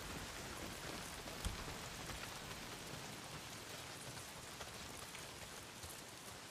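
Steady heavy rain pattering on surfaces in the video game Days Gone, a dense continuous hiss with occasional faint low rumbles, heard alone.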